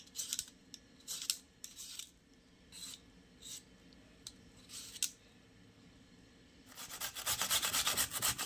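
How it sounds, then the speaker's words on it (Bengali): Radish is grated on a grater, with short rasping scrapes in uneven strokes followed by a denser run of rubbing at the end, close and fairly quiet, with no talk. "আমি মূলোগুলোকে এভাবে ঘষটানিতে ঘষে নিয়েছি।"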